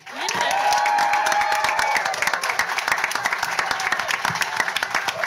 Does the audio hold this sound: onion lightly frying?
no